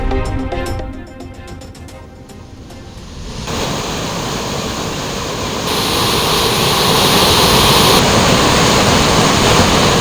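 Floodwater roars down the Kothai river below the Pechiparai dam, along with the waterfall at Thirparappu: a loud, continuous rushing wash of water that swells steadily, close and with no voices.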